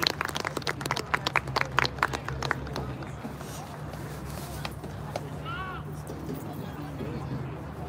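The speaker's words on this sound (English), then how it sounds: "Give a little man a hand clap." Scattered hand claps from a crowd at an all-star youth football game, Camden County versus Gloucester, ring out for a player, then fade into a steady wash of crowd noise and murmur.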